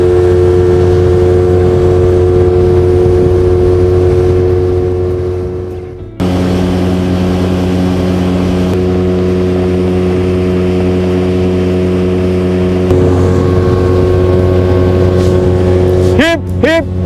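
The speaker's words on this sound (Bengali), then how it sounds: "মানে 4 সিটার যে স্পিড বোটটা হয় সেটা নিয়েছি" A four-seater speedboat runs on Chandil Dam, its engine a steady loud drone with a brief dip in power midway, then pulling again. A voice is heard faintly beneath the engine.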